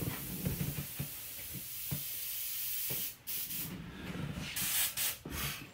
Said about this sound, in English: I'm just gonna spray it, lock all them colors in real fast